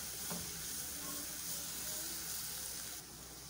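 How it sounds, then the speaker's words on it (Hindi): Ginger and garlic paste sautéing lightly in a pan for chicken samosa filling gives a steady, soft sizzle that stays even from start to finish, with no voices. "इसे हल्के से सौते कर लेते हैं"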